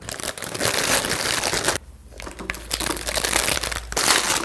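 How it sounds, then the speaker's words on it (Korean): A plastic sheet crinkles and crushes loudly up close as it is pressed into an empty flower pot for a floral arrangement, a continuous rustle with a short pause partway through. "화분에 비닐을 넣고 플로레폼을 올려놓습니다."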